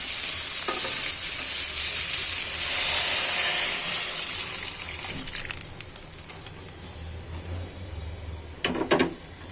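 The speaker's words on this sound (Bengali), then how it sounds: "পানি অ্যাড করে দিবে এখন" Water is added to a frying pan of rohu fish curry with sweet pumpkin, a rushing pour over loud sizzling that fades to a quieter simmer, ending with a couple of utensil knocks close by.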